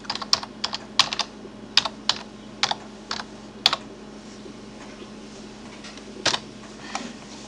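Keystrokes on a computer keyboard typing a signature into a text editor's footer, a dozen or so separate clicks in an uneven rhythm with pauses, close and fairly quiet over a steady low fan hum.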